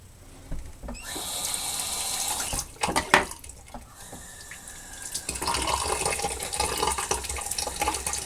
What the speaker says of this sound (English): You got to rinse them off a little bit more.